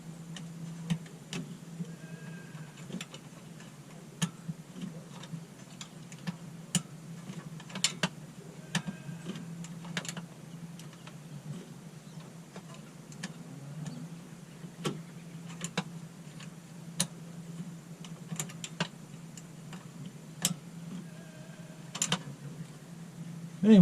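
A wrench works bolts loose on a Kawasaki Teryx, giving scattered light metallic clicks and ratcheting ticks at close range over a low, steady hum.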